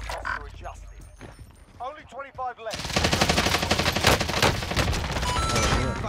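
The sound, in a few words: gunfire in the video game Warzone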